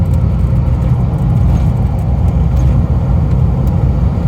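A car engine pulls steadily under load in the higher gears on a test drive after garage repairs, with a loud, continuous low rumble and road noise and no pauses throughout.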